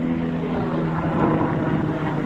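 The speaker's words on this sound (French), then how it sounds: "Il y a un hélico, c'est la police de LA." A Los Angeles police helicopter circles overhead, its rotor throbbing as a steady, loud, continuous drone that fills the whole stretch without voices.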